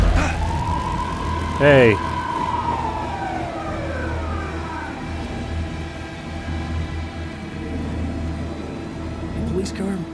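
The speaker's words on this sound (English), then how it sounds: "Police car?" A police car siren wails from Alan Wake 2, its rising and falling tone sweeping clearly for a few seconds over a low background rumble while a voice briefly speaks.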